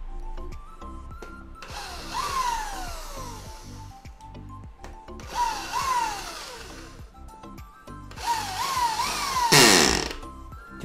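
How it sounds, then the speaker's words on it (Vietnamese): A Japanese-market Makita 100V hammer drill runs in concrete drilling mode, giving three separate bursts of whining, rattling motor noise with a rising-and-falling pitch, each a couple of seconds long, close and fairly loud. "Chức năng khoan bê tông nghe anh em."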